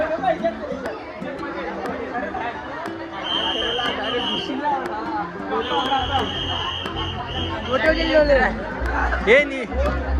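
Dense crowd chatter and babble at a busy water park, many voices overlapping nearby, with friends talking close by over the steady hubbub.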